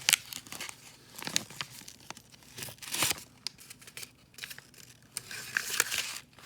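A paper wrapper on a roll of dimes tears and crinkles in short, irregular rips and rustles up close, quiet with sharper peaks, and no talking.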